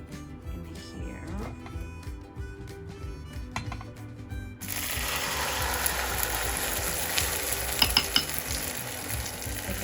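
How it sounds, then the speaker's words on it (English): Food dropped into warmed oil in a home kitchen pan bursts into a loud, dense sizzle halfway through, after quieter clinking and stirring, then keeps crackling steadily. "I've just warmed some oil in the pan as well. So now this will just go"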